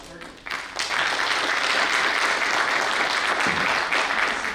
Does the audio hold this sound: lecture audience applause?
yes